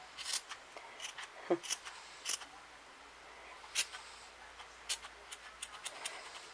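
Scissors snip yarn while a pom-pom is trimmed, a run of quiet, sharp, irregular clicks and cuts with short pauses between them, close by, with no talking.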